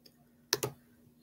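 Computer mouse click, a quick double click of two sharp ticks close together in an otherwise quiet room.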